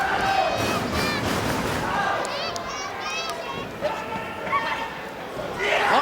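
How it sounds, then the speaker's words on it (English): Wrestling crowd at a Ring of Honor match chanting in unison for Bryan Danielson, a dense roar of many voices with rising shouts that swells again near the end. "the crowd trying to inspire Bryan Danielson. Let's go, Dragon, they shout."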